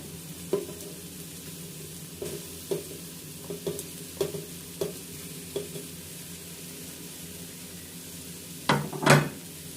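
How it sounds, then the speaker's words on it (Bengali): Tomato and green chillies are stirred and mixed in a frying pan for soya veg pulao, with a faint sizzle under a series of light spatula scrapes and taps, ending in a louder clatter, close by. "এবার আবার সবগুলো একসঙ্গে অল্প কিছুক্ষণের জন্য মেখে নেব"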